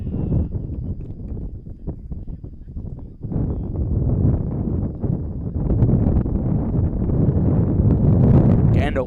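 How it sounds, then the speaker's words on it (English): Strong 30-35 mph wind gusts from the south-southeast buffet the microphone at a night high school baseball game in Brownsville near the shipyard, a steady low roar that swells louder partway through. "Wind blowing in from the south-southeast. 30-35 mile an hour winds."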